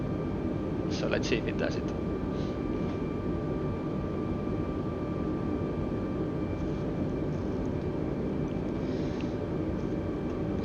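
Steady engine drone of an Airbus A320neo in Flight Simulator 2020 during an autoland approach, a constant broadband hum throughout with someone talking over it.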